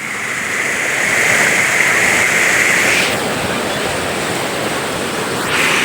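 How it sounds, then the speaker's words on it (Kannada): A waterfall pours with a loud, continuous rushing roar that stays steady and close throughout, with no voices. "ಇಲ್ಲಿಂದ ನೀರು ಹಿಂಗೆ ಬೀಳ್ತೈತ್ರಿ"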